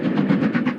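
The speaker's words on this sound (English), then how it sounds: "There is a magic to this train that draws a crowd regardless of the weather." A train passing over the Glenfinnan Viaduct, a steady rolling rumble with a rhythmic pulsing clatter of wheels, moderately loud and continuous.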